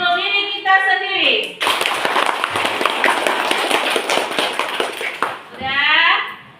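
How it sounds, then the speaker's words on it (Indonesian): A classroom of primary school children claps their hands together in a loud, dense burst of applause lasting several seconds, with talking heard before and after the clapping. "Tepuk tangan untuk diri kita sendiri."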